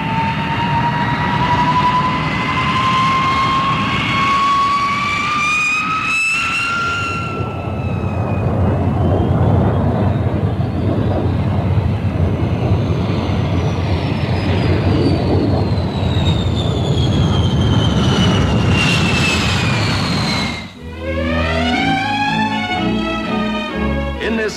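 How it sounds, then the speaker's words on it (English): A Vickers Valiant four-jet RAF bomber roars overhead, a loud continuous jet rumble with rising and falling whine tones as it passes, followed by a sharp shift to another close, throbbing engine pass near the end. "The RAF's tremendously powerful weapon to come is the Valiant, the new 4-jet bomber"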